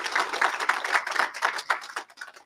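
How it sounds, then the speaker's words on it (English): Audience applause at a June graduation ceremony, a steady patter of many hands clapping at moderate distance, fairly quiet and tapering off near the end. "Let's give them a round of applause, okay?"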